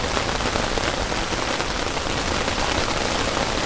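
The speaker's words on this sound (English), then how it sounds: "It is really coming down. You can tell by the sound of it." Heavy rain pounds steadily on a backpacking tent, an REI Quarterdome, making a dense, loud, unbroken hiss and patter close overhead with no voices.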